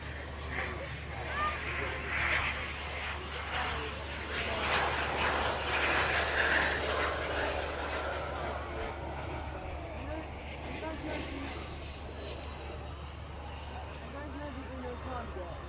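A Beechcraft aircraft touching down on runway 09 at East Midlands Airport, its engine a broad, steady roar rising and easing over about fifteen seconds at moderate distance, with people talking over it.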